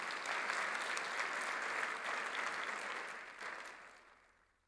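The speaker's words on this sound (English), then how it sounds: "A warm round of applause for his leadership" An audience at an international education meeting applauds a minister, a thick, steady roll of many hands clapping that holds for a few seconds and then fades away toward the end.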